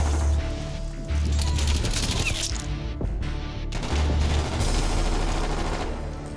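Rapid automatic gunfire from a Lapa in Call of Duty Black Ops, loud sustained bursts with heavy low thumps, brief gaps around one second and four seconds, then firing resumes and runs steadily to the end.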